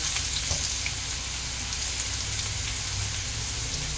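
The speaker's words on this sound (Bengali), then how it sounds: "আদা কুচি দিয়ে বেশি ভাজবো না, আমি হালকা একটু নাড়াচাড়া দিয়ে নেব।" Steady, even sizzling of chopped ginger frying in hot oil, continuous and fairly loud throughout with no voices.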